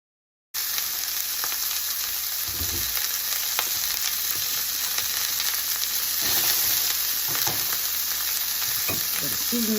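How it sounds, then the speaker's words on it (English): Corn kernels dropped into a little olive oil in a skillet over medium-high heat burst into a loud, close, steady sizzle that continues unbroken. "I've got a skillet over medium-high heat, and I'm going to add just a little bit of olive oil to it. In goes our corn kernels."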